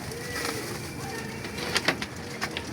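Pigeons give soft cooing calls against a murky outdoor background, faint and somewhat distant, with a few brief sharper sounds near the end.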